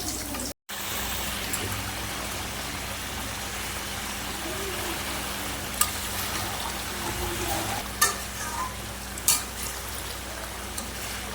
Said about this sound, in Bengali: ওটা কাঁচা লঙ্কা দিয়ে দেবো।